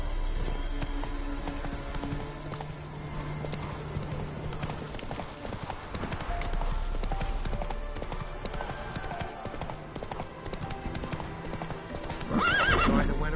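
Horse galloping in the video game Witcher 3, steady rapid hoofbeats over continuous game music, with a whinny near the end.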